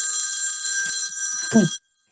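A mobile phone ringtone rings during a climate activism talk, a steady tonal ring lasting under two seconds before cutting off abruptly, with a brief low thump near the end.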